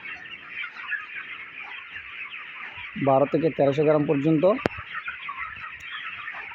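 Many 26-day-old broiler chickens clucking together in a busy shed, a steady dense chorus, with a voice speaking over it.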